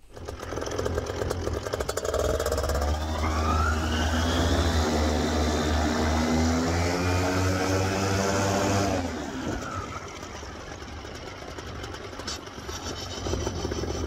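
Trike aircraft engine taxiing at Wauchula airport, loud and close, rising from a steady rumble into a strong buzzing roar with climbing pitch, then dropping back to a lower idle drone.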